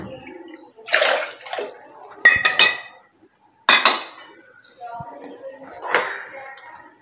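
A spoon stirs rice kanji with coconut milk and garlic in a pot, giving a few sloshing, scraping bursts with faint metallic clinks, separated by short pauses.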